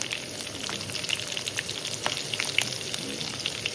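Onion pieces frying in oil alongside a dried red chilli, a steady close sizzle with crisp spitting pops and faint stirring.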